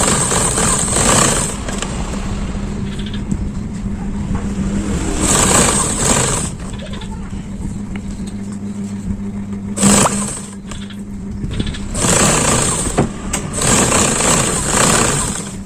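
A sewing machine stitches the shoulder, back and sleeve seams of a shirt in several bursts of steady, close motor whirring, stopping and restarting between runs.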